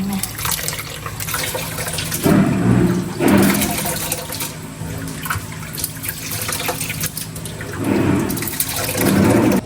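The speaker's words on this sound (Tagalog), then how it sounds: "Tatanggalin natin yung tubig." Water is poured and drained from a container of santol fruit that has been soaking in salt water, in repeated gushing, splashing bursts over a continuous running-water background.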